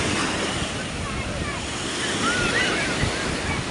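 Sea waves washing up on Besant Nagar Beach make a constant broad rush of surf and wind, swelling slightly toward the end, close and fairly loud, with no clear talk over it.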